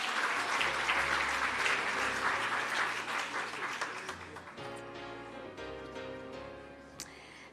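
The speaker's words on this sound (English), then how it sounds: "A warm applause to Professor Ivan Vladislavich." Sustained audience applause at a national research awards ceremony, a dense wash of many hands clapping at steady volume that thins slightly toward the end, with no speech over it.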